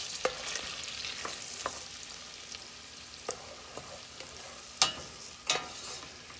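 Shallots and garlic sizzling in oil and butter, a faint steady fry with scattered clicks and two sharper utensil knocks near the end, no voices.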